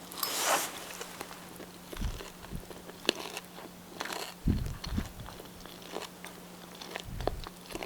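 Crunchy bites into a fiery, spicy crispy chicken dip snack, several sharp close crunches spaced out over a quiet background with a brief rustle at the start.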